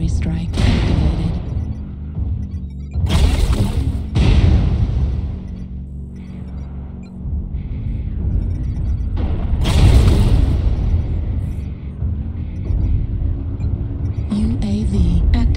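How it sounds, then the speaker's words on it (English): Artillery strike explosions in a video game, several heavy, booming blasts landing at irregular intervals over a steady low rumble of battlefield noise. "Artillery strike activated."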